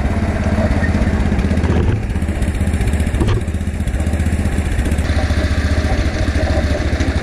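A heavy motorcycle pulls a trailer in first gear, its engine droning steadily and loudly close by with a low, rumbling, slightly clattery tone that stays continuous throughout.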